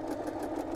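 An entry-level domestic sewing machine stitching buttonholes on a black safari shirt gives a steady mechanical whirr with a fast, even rhythmic pulse, continuous and fairly close.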